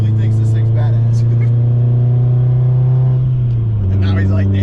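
A loud sports car engine drones steadily up close, a deep sustained rumble that drops slightly in pitch near the end, with people talking over it.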